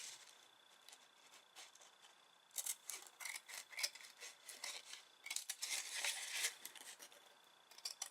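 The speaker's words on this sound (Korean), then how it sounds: "필터를 아노다이징할 티타늄보다 약간 크게 잘라줍니다." Scissors snip through a paper coffee filter, trimming it slightly larger than a titanium piece for DIY anodizing; soft, close crisp cutting rasps come in short bursts, busier toward the end.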